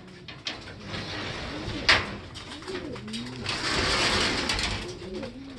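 Racing pigeons coo repeatedly in soft, rising and falling calls at moderate distance, mixed with scuffling, a clack and background hubbub.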